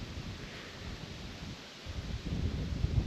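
Wind blows across an open mountainside, a steady rough buffeting on the microphone that dips briefly, then returns stronger and gustier near the end.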